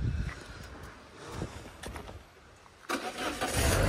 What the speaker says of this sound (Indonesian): Sekali starter langsung hidup.